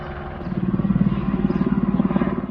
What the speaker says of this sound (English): So if you heard any helicopters flying around while I was shooting this video